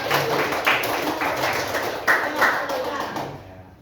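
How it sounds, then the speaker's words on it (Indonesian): Group of participants claps for the first group in a classroom teaching session, brisk hand claps in a bright patter with a voice over it, fading out toward the end. "Beri tepuk tangan dulu untuk kelompok 1."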